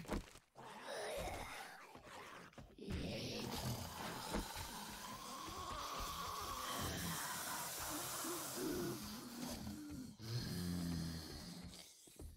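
Several zombies in the survival game 7 Days To Die let out long, rasping snarls and groans that overlap in a steady, moderately loud stream, broken by a few brief gaps.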